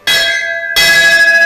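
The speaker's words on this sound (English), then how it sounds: "I do like that bell." Bell at the Huia Settlers Museum rings in two clear, sustained strikes, the second arriving just under a second after the first, each with a bright metallic tone and lingering resonance.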